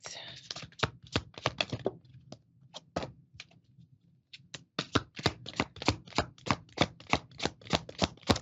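Cards are riffled and bridged in quick crisp bursts, then after a short pause a steady run of sharp rhythmic snaps from the shuffle.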